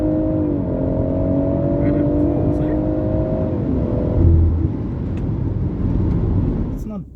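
A BMW M140i with its six-cylinder engine running near the microphone, a sustained rev held steady with a rising whine, then dropping back to a rough idle rumble as the car sits during a burnout.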